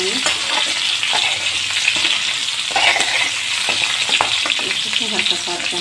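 Onions frying with salt in a pan for a mini onion curry, a loud, steady, close sizzle with occasional scraping from a spoon stirring them.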